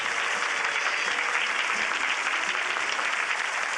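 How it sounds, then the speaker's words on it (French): A studio audience at a TV contest show applauds a contestant, steady dense clapping that holds at an even level throughout, with no voices on top. "Je vous demande d'applaudir chaleureusement notre concurrent."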